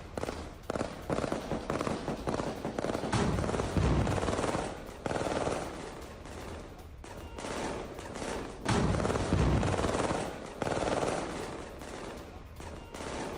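Heavy automatic gunfire from IDF soldiers in news footage comes as long, rapid bursts with short pauses between them, loud and rough.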